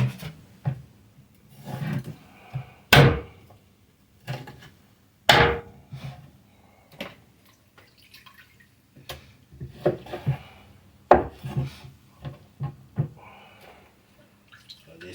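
Chunks of beef, pork and goat meat being cut on a board, with several sharp knife chops standing out among softer thuds and scraping, close by, while a voice talks in between.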